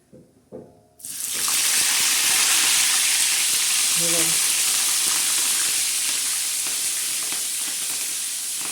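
Salted red chili peppers hit hot oil for frying, and after a brief clatter a loud, dense sizzle bursts in and holds steady, easing only slightly toward the end.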